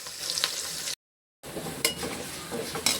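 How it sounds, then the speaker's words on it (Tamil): Onions frying and being stirred in a pan for a Tamil fish curry, with steady close sizzling, a few scraping stirs, and a brief gap of silence partway through. "இது வந்து நல்லா பொன்னிறமாக வேகணும்."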